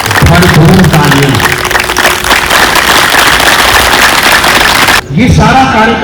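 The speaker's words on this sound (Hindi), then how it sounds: "भरपूर तालियां" Loud, sustained clapping from an audience at an International Yoga Day event, a dense continuous patter of many hands that cuts briefly near the end before resuming, with a voice over the start and finish.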